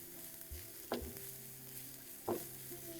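Onions frying in a pan with turmeric and salt, stirred with two sharp scraping strokes over a steady low sizzle, close and fairly quiet, with no talking.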